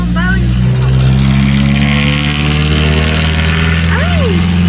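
A 1982 Toyota Cressida engine drones steadily while driving, a loud low hum with rising and falling whine under the cabin noise, and a voice talking over it.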